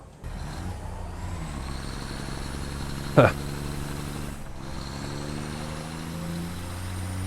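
A large truck in the game Satisfactory rumbles and hums steadily, a continuous engine drone with a short hiss near the middle, while someone talks over it briefly.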